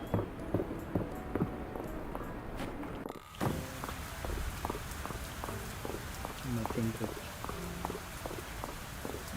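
Steady rain patters on a rainy day in the video game Fields of Mistria, a constant wash of drops under repeated light footsteps and soft tonal game cues, with a brief dip partway through.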